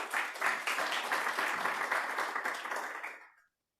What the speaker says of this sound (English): Everyone clapped.